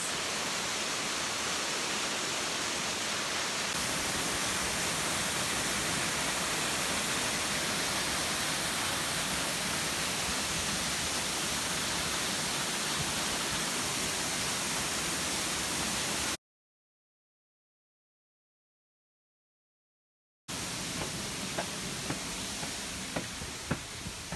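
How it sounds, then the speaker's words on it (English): A waterfall at Pipestone National Monument in Pipestone, Minnesota, gives a steady, close, full-bodied rush of falling water that runs without a break except for a few seconds of silence in the middle. No one speaks. "Here we are at the bottom of the waterfalls."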